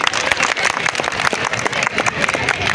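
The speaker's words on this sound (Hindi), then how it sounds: "एक बार आपके लिए जोरदार ताली।" A group of participants claps after a fire mock drill at a company workplace, a short, loud burst of close, dense clapping that lasts a few seconds.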